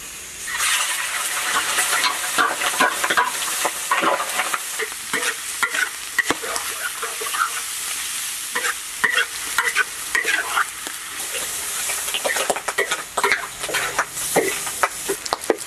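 Pork sizzles and crackles as it is stir-fried in oil in a wok on a new stove, with loud continuous frying hiss and repeated scraping strokes of the spatula close by, no talk.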